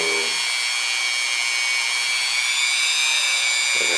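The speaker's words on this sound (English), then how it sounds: "you can remove metal with a Dremel" Dremel rotary tool grinding metal on a handgun trigger sear, a steady high-pitched whine held loud and close throughout with no talk.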